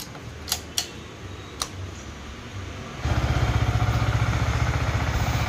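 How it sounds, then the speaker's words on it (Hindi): A motorcycle cold-starts, with a few clicks and a brief whir first, then the engine catches at about three seconds and settles into a steady, close, loud idle with a rapid even thrum. "सबसे पहले बाइक को आप कोल्ड स्टार्ट करेंगे"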